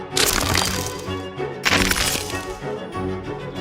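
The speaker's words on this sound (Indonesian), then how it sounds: "Black Angel bikin aku jadi manusia es" A loud, crisp cracking effect of ice forming as a person freezes solid, with two sharp bursts of crackling and splintering followed by a lingering glittery crunch, backed by dramatic music.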